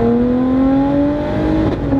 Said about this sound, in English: Do you hear those gear shifts?